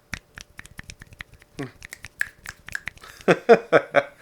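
Several people snap their fingers in place of applause, a patter of sharp dry clicks that grows denser and louder toward the end, with some voices mixed in.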